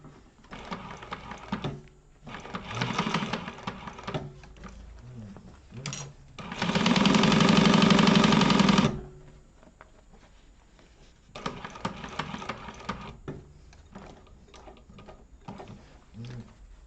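Sewing machine back stitching over zipper teeth while making a wallet, several short bursts of mechanical whirring and one longer loud run, close by, with quieter handling and talk in between.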